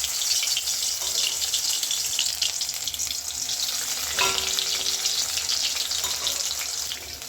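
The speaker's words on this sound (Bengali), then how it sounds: "কড়ার মধ্যে তেল দিয়ে দিয়েছিলাম, তেলটা গরম হয়ে গেছে। এবার আমি এগুলো ছেড়ে দিচ্ছি আস্তে আস্তে।" Stuffed ash gourd pieces slid into hot oil in a kadai, giving a steady hissing fry that runs throughout, close and fairly loud, with a brief clatter midway and no speech.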